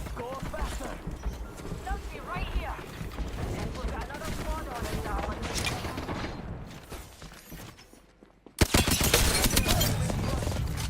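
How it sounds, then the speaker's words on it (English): Hemlock fire in the Apex Legends video game comes in rapid bursts of shots, mixed with game effects and clanks. Loud, dense bursts crowd the last seconds after a short quiet gap, and someone talks over parts of it. "Fortunately for us, Gibby was carrying the Hemlock, so we're able to grab that"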